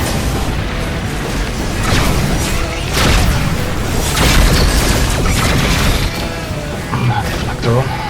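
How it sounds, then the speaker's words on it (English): In the space combat game Rebel Galaxy, homing missiles strike an enemy ship as a run of heavy booms and crashing impacts, loud and continuous, with a voice speaking over the noise. "give him some homing missiles"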